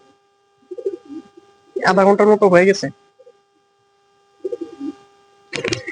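A male and female pigeon coo in a loud, rolling burst with a few softer coos before and after, alongside a voice.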